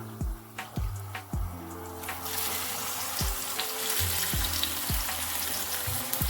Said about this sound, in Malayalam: മസാല പറ്റിയ നമ്മൾ കൊഞ്ചിട്ട് കൊടുക്കുകയാണേ.